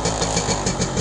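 A warmed-up 1968 Harley Davidson Aermacchi M-125 Rapido motorcycle idles with a steady, rapid, thumping exhaust beat. It is loud and close, with no talking.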